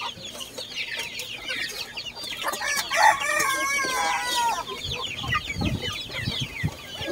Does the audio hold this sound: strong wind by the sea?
no